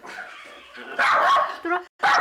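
Byeol the dog barks in short loud bursts at visitors arriving for a sewing class indoors, with people talking over the barking nearby.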